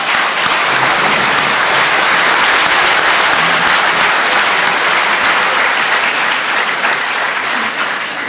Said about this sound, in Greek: κυρίως όμως τα χειροκροτήματα τα οποία ακούσαμε